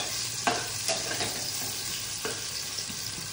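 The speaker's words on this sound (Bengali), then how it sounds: "ক্যাপসিকাম ভাজা হচ্ছে" Capsicum fries in a pan alongside green hariyali chicken, producing a soft, steady sizzle with a few sharp scrapes from stirring, fairly quiet and close, with no talk.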